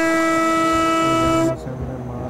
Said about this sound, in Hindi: हमने मार दिया हॉर्न